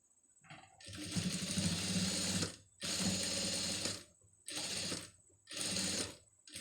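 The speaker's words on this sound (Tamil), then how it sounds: "இப்போ இன்னொரு தையல் வந்து நம்ம வந்து போட்டுடலாம்" A sewing machine stitches a blouse neckline in four close, loud bursts of rapid mechanical whirring, each run a second or more long with brief pauses in between.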